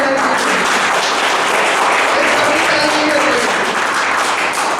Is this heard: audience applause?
yes